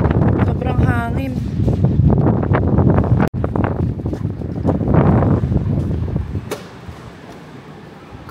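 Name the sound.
strong wind outdoors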